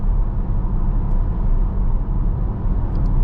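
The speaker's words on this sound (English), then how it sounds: "So you can hear some tire noise, and above 130, a little wind noise coming" Inside a 2023 Tesla Model S Long Range cruising at about 140 km/h, a steady low tire roar on the road blends with a soft wind rush, constant and even throughout.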